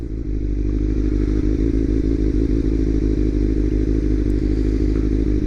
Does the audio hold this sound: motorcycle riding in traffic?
yes